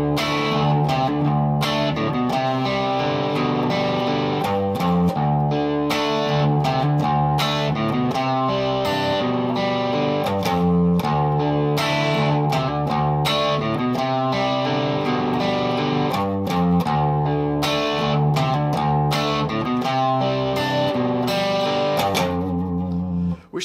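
Heavy distorted electric guitar plays a riff at full tempo, with a dense, continuous run of picked chords repeating loudly for over twenty seconds.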